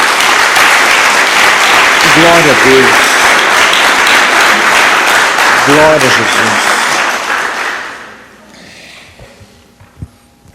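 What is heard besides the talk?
congregation applause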